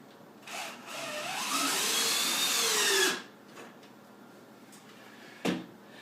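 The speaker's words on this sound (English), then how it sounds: "Install this other screw real quick." A power tool whirs steadily for about two and a half seconds, driving a screw into a door bracket. A few faint knocks and clicks follow in a quiet room.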